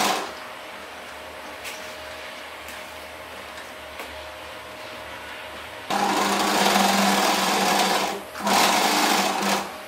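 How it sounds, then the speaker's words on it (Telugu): An electric sewing machine stitches dress fabric at a moderate, even hum, then runs louder and faster in two close bursts separated by a brief pause. "ఒకసారి స్టిచ్ చేసుకొని మళ్ళీ తిప్పుకొని ఇంకో స్టిచ్ దాని మీదే వేసుకోండి"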